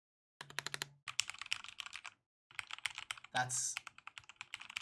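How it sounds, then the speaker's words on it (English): Typing on a Mountain Everest Max keyboard with Cherry MX Speed switches: quick bursts of sharp, close key clacks in rapid runs, broken by short pauses, with a brief spoken word in between. "You can hear that there's like a slight hint of the clack behind it, just the slightest, but it's not wobbly."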